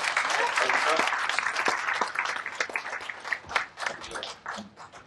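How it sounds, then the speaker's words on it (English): A large audience at a book awards ceremony breaks into a loud round of applause, dense clapping that thins and fades over about five seconds, with some voices mixed in. "can we have a huge round of applause?"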